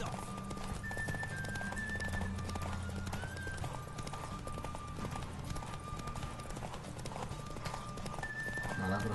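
A horse canters in Witcher 3: Wild Hunt, its hooves clip-clopping in a steady rhythm throughout, with game sounds and a person talking over it.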